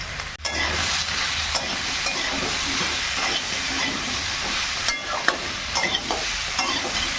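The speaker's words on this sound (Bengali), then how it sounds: "এর জন্য গোলমরিচ দিলাম দুটো কাঁচা লঙ্কা ফোড়ন দিয়েছিলাম আর এই গোলমরিচ দিলাম" Black peppercorns and green chillies fry in hot oil with a steady, loud, close sizzle and hiss. Occasional stirring clatters and small pops come through the constant frying.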